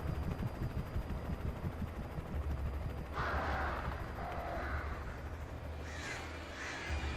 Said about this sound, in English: Birds, birds, birds.